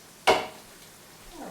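Carrots tip into a pot of sorrel soup with a single sharp clatter, then a faint quiet simmer follows.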